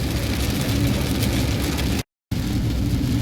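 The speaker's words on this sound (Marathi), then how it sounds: "अर्धा तास झाला तरी अजून पाऊस काही कमी झालेला नाही कंटिन्यू वायपर हे असेच फिरत आहेत" Heavy rain pounds a car driving on the road from Kolhapur toward Mumbai, a loud, dense, unbroken roar with the engine hum beneath it and a brief gap of silence midway.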